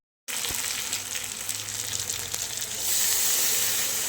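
Chicken frying in oil in a wok gives a steady, close sizzle and hiss that starts abruptly and then swells louder toward the end, with no voices.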